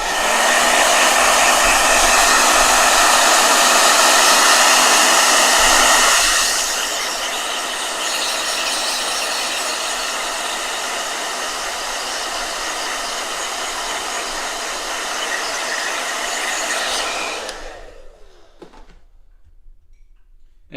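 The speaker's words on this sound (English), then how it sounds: "I'm going to blow dry real quick." A hair dryer blows steadily and loudly on a fresh painting for about seventeen seconds, its pitch and force shifting partway through as the setting changes, then switches off into near silence.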